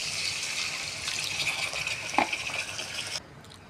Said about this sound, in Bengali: তারপর অল্প জল দিয়ে দেবো বন্ধুরা